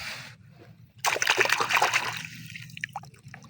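Aquatic weeds from a water spinach plot are swished and rinsed in water, a sudden burst of close splashing and sloshing after a quiet start, with trickles as the plants are lifted.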